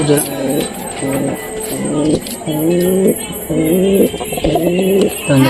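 Pigeons coo at night in their coop, a close, throaty series of repeated rolling coos in short bursts one after another, over a thin steady high whine in the background.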